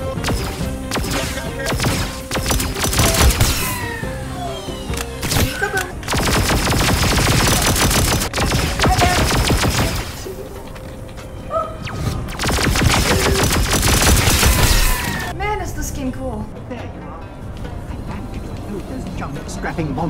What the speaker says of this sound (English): Trying to shoot at me.